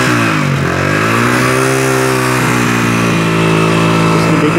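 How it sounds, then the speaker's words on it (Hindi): A 2017 H125 motorcycle engine idles and revs nearby, loud and continuous, its pitch dipping and rising as the throttle is worked, with no talk over it. "ये बाइक अभी आपके सामने स्टार्ट है"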